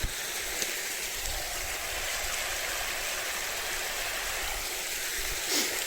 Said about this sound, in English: There's a small waterfall here.